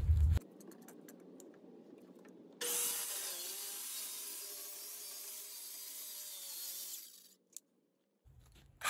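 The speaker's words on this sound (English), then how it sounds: "I'm going to cut it and use my hacksaw to get the rest of it" A compact Milwaukee reciprocating saw cuts through a reclaimed wood board in one loud, steady buzzing pass lasting about four and a half seconds, framed by quieter handling noise before and after.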